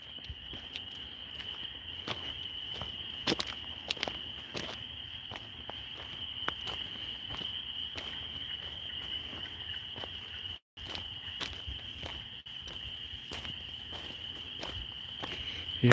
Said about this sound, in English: Can you hear these frogs?